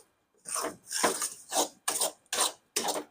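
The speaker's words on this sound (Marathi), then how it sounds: "आणि मिश्रण चाळत राहायचं" Coconut burfi mixture of grated coconut and dissolved sugar is stirred in a pan over low heat, giving six distinct close scraping strokes in an even rhythm with short pauses between them.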